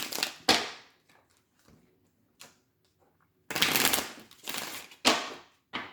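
Tarot oracle cards being cut and shuffled up close: a sharp riffle, a few soft taps and slides, then several longer, louder riffling bursts.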